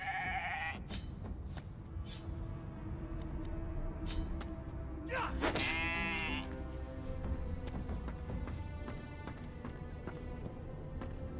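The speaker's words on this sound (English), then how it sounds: "Shaking her fluffy coat, the sheep eyes you balefully" Sheep bleating in the video game Divinity: Original Sin 2, a few short bleats, one longer and louder in the middle, over quiet game ambience.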